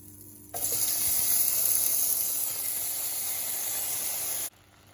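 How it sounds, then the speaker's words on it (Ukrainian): Scarlet elf cup mushrooms (Sarcoscypha) sizzle loudly in butter in a hot pan, a steady hissing fry for about four seconds before it suddenly cuts off. "На вершковому маслі смажу саркосцитку"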